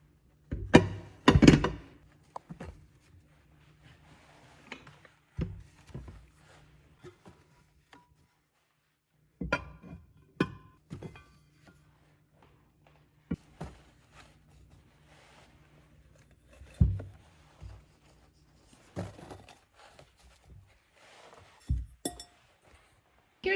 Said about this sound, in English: then just go ahead and stack all my bowls in here